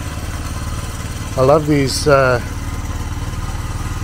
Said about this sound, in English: Oh, this is idling so nicely now.